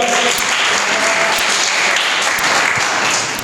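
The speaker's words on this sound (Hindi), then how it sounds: "जोरदार तालियां, जोरदार जोरदार" Loud, dense applause from a crowd fills the whole stretch, steady clapping with no pause.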